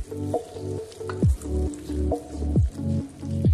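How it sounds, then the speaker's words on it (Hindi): Chopped tomatoes hit hot oil in a pan for a kofta curry gravy, giving a close, steady sizzle with wet squishing and stirring sounds throughout, no voices. "ग्रेवी बनाते हैं और उसी ऑयल में हम टमाटर डाल देंगे।"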